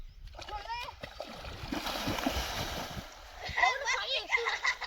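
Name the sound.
people jumping into water while swimming, splashing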